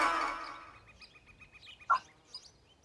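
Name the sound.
hawk call sound effect in Code.org programming lesson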